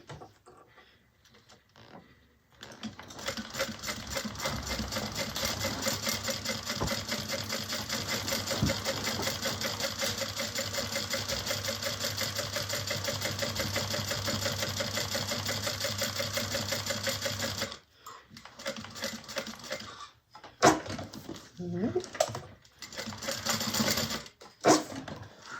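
A sewing machine stitches a bag handle, running in one long steady burst with rapid needle rhythm, then stopping and restarting in short irregular bursts near the end, with no talk over it.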